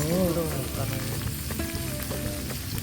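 Beef intestines (gopchang) sizzling on a grill at a neighbourhood Korean restaurant, a steady crackling fry under clinking and background chatter, moderately quiet.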